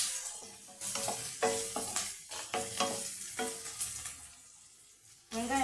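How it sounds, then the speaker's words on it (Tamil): Onions sautéing with lentils in a pan for a Tamil home-style dish, steady sizzling and frying under repeated stirring scrapes, moderately close with pauses between strokes. "வெங்காயம் நல்லா வதங்கட்டும்."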